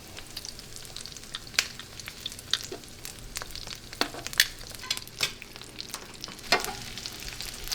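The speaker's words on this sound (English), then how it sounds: "now we start with the shrimp. We put a piece of butter." Shrimp frying in melted butter in a pan crackle and sizzle steadily, with scattered sharp pops and the scrape of stirring, close and fairly loud, with no voices.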